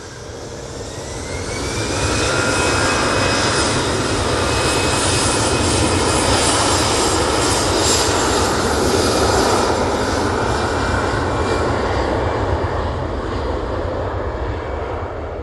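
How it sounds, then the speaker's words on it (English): A Ryanair jet arriving from Copenhagen roars steadily at Manchester Airport, a loud sustained engine rumble with a whining tone that swells in over the first seconds and holds throughout, no voices. "Next in, we have the Ryanair from Copenhagen."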